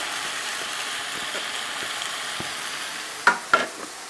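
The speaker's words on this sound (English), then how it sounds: "Now that the chicken is cooked through, I'm just going to add my veggies." Chopped peppers, chilies and onions added to a pan of chicken frying in oil, a steady close sizzle with a couple of sharp clattering knocks near the end.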